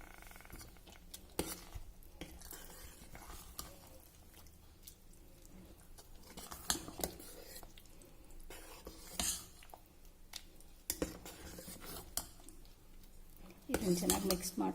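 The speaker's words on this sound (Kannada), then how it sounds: "ಈಗ ಇದನ್ನು ಚೆನ್ನಾಗಿ ಮಿಕ್ಸ್ ಮಾಡ್ಕೊಳ್ಳೋಣ" A spoon stirs foxtail millet kheer with milk in a pot, giving soft scrapes and occasional light metallic clinks at a quiet, close level, with no talk.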